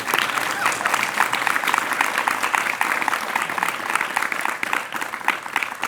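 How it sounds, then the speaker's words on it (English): Applause from a retreat audience fills the whole stretch, a dense, steady wash of many hands clapping at even volume with no voices standing out. "big round of applause to Maharaj for..."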